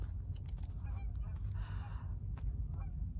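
A small flock of six geese flies in, honking in scattered calls over a steady low background rumble, fairly faint and distant.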